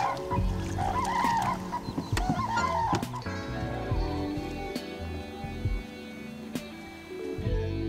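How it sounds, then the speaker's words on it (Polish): Geese call from across a lake during a pike fishing trip, a burst of overlapping honks that comes early, then thins to a few scattered calls over steady background noise. "Gęsie zaczęły krzyczeć."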